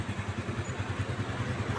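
Pushrod 125/150 cc motorcycle engine of the XT type idling with a faint whining note, a quiet, rapid, regular chugging pulse that stays close and even throughout.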